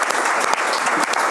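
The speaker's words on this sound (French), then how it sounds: "est-ce qu'on peut faire un énorme applaudissement pour Alex et Lara" Dense, loud applause from a comedy show audience, a steady wash of many hands clapping close by for a brief moment, with no voices on top.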